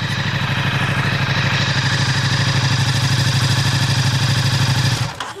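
Ducati XDiavel S motorcycle engine running close by, a loud, steady pulsing idle with rhythmic clatter that cuts off abruptly near the end.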